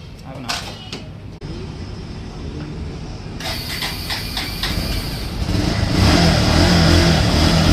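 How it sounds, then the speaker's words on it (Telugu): A Bajaj Pulsar 150 motorcycle engine cranks on a repaired self-starter motor and catches, then runs with a steady, rising mechanical drone that grows louder toward the end, close by. "ఇలా సెల్ఫ్ మోటార్ మంచిగానే వర్క్ అవుతుంది."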